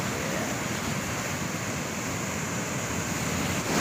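Rough sea at Mariveles, Bataan, facing the South China Sea, roars as a constant, dense wash of surf, with wind buffeting the microphone throughout.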